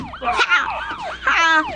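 Police sirens wail loud and close in an animated series, rising and falling in rapid overlapping sweeps.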